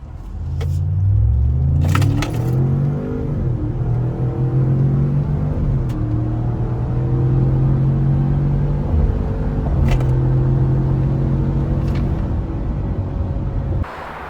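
A 2025 Chevy Suburban with the naturally aspirated 6.2L V8 and 10-speed transmission accelerates hard, heard from inside as a loud, rising engine drone that climbs through several gear shifts, with road rumble throughout.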